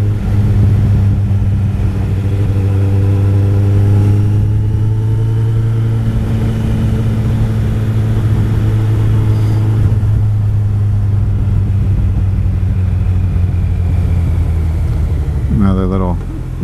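Kawasaki ZX14 motorcycle engine holds a steady mid-pitched drone while riding a gravel road, with wind noise throughout and a brief rising rev near the end.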